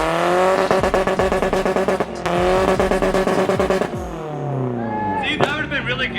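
Honda car engine revs hard with a loud, rasping roar and tire squeal, rising and falling in repeated bursts close by. Voices and crowd noise mix in near the end.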